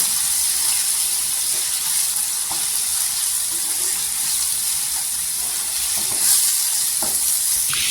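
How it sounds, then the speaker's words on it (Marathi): Crushed peanuts frying in oil for a sprouted matki curry, a dense, loud, steady hiss and crackle of hot oil with faint scrapes of stirring, close up and unbroken, with no talk. "इथे आपण आहे ना तेलावर परतून घेतलेलं आहे शेंगदाण्याचं कूट"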